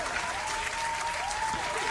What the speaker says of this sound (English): That's worth a cheer, I think.